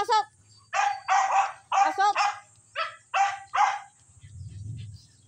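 Several pet dogs bark noisily in a rapid run of sharp, close barks and yips, followed by a low whimper or growl at the end.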